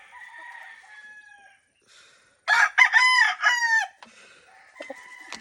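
A pure Golden Boy sweater gamefowl rooster crows once, loud and close, after some softer clucking, with other birds faintly around on a game farm.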